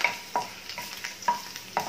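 Ingredients for chhole sizzle in hot oil while a spoon scrapes and taps the pan in quick, repeated strokes; no talking.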